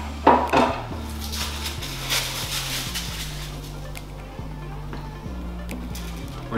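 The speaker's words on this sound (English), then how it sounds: "I'm gonna grab my knife here real quick and cut this sheet down a little bit" A kitchen knife trims a sheet of puff pastry for beef Wellington, giving a few light taps and scrapes against the board over a low steady hum, with no speech.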